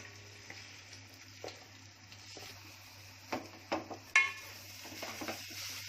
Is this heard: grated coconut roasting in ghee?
yes